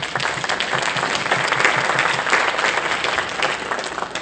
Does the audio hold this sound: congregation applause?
yes